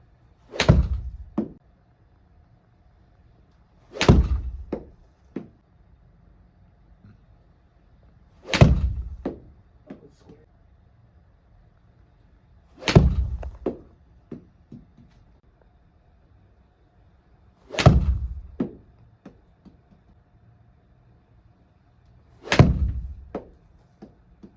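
A golf club strikes golf balls into a simulator, with six sharp, loud impact thwacks spaced about four seconds apart, each followed by a brief softer thud and quiet between shots.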